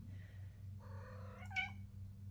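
A cat gives a couple of clear meows, a longer drawn-out call followed by a short sharp one, close by in an indoor room over a steady low hum.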